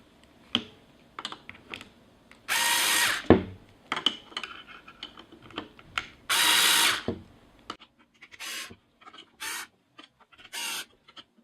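A cordless screwdriver drives screws to press crankset bearings into a LOOK ZED2 crank, giving two loud, short motor whirs, each about a second long, between close clicks and small metallic handling taps.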